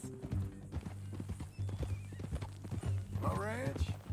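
Horse hooves clip-clop steadily in Red Dead Redemption on PS5, ending with a loud rising whinny, all close and under ongoing male speech and game ambience.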